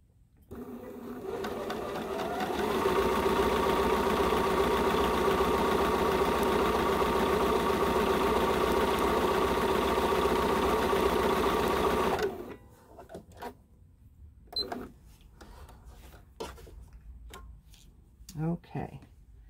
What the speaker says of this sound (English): we're going to finish sewing that other quarter inch down the side